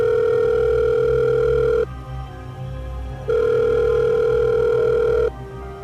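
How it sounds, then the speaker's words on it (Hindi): A phone rings in a pocket in a horror story: two long, steady electronic ring tones, each about two seconds, separated by a short pause, loud and clear with no voices. "कि पॉकेट में रखा उसका फ़ोन बज उठा।"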